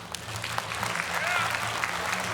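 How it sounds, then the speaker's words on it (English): A crowd at a World of Tanks esports semifinal event claps in a short, lively round of applause, with a faint voice or murmur mixed in under the clapping. "Round of applause."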